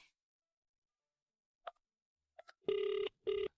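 A telephone rings twice in clear, loud electronic bursts after a few faint clicks, with no talk over it.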